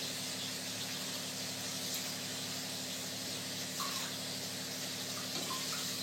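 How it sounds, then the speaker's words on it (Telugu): Rice boiling in water in a pot, a soft steady bubbling hiss that stays constant and faint, with no voices. "ఫ్రెండ్స్, మన రైస్ అయితే ఉడుకుతుంది."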